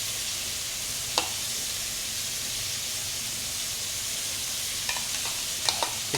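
Chicken fries steadily in a pan with garlic, a loud continuous sizzle close up, broken by a few sharp clicks and pops from stirring.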